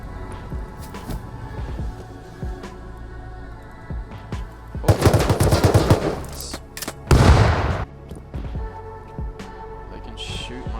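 Gunfire in the online survival game Rust during a base raid, with two dense bursts of rapid shots in the middle and scattered single cracks around them, loud over a steady game backdrop.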